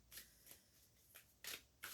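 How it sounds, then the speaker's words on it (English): Tarot cards being shuffled close to the microphone in a quiet room, four or five short crisp riffling bursts spaced irregularly. "We're just going to shuffle for a while."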